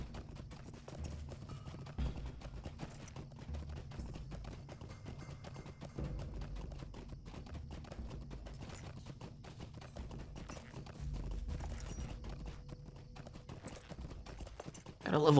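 Horse hooves clip-clop steadily while riding in the online game LOTRO, a continuous rhythmic trot at moderate level throughout, with a louder burst at the very end.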